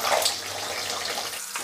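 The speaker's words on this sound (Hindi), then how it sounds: "आलू 4 से 5 मिनट हाई फ्लेम पर चलाते हुए पिंक कलर आने तक फ्राई कर लेंगे।" Potato slices for aloo katli frying in hot oil in a pan over a high flame, giving a steady hissing sizzle throughout with a few brief stirring sounds near the end, and no voices.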